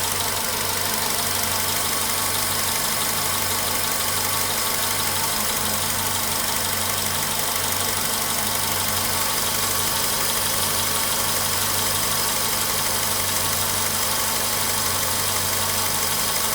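A Volkswagen Polo Sedan engine nearing 100,000 km idles with a steady, loud hum and a rapid knock that is getting worse, heard close up and alone for the whole stretch.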